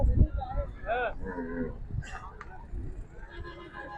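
Water buffaloes low loudly at the Talhar buffalo livestock market, with several close moos amid people talking nearby.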